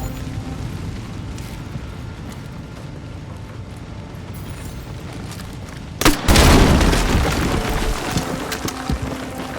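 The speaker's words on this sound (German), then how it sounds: "Wir könnten sie sprengen." A wall is blown open by an explosion in Battlefield 6, a sudden loud blast partway through followed by a long rumbling, crumbling tail over quiet ambient game sound.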